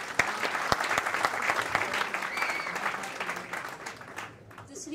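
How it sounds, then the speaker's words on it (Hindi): A crowd at the trailer and music launch of a Hindi film claps energetically, with sharp individual claps standing out from a dense, continuous round of applause that fades slightly at the end. Some voices are mixed in. "ताली थोड़ी जोरदार हो जाए प्लीज।"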